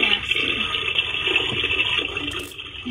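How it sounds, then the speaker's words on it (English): A Baby Alive doll's toy potty plays a continuous toilet-flush sound of rushing water, fairly loud and steady for nearly three seconds with no talking over it. "someone didn't flush."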